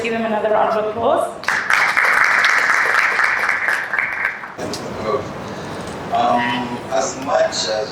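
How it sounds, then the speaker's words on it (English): Round of applause from a conference audience, clapping swelling loud for a few seconds then fading, while voices speak over and after it. "Please let's give him another round of applause"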